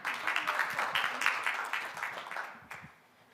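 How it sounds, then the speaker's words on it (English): A small audience at a startup pitch night claps in a brief round of applause, a dense patter of hands that swells and then fades out within a few seconds, heard from within the room. "we'll give you a round of applause to lead it off"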